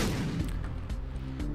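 An enemy in The Binding of Isaac fires repeated shots at the player in a game room, short muffled bursts at uneven intervals over a steady background of game sounds.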